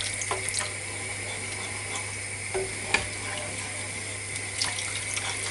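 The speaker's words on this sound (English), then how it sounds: "So just going to pour that in now." Stock cube gravy mix topped up with water is poured steadily into a tin of mini toad in the holes, giving a continuous close watery pour with light clinks and no talking.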